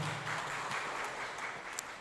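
Audience applause at an academic conference, a short burst of clapping at moderate loudness, fairly even throughout.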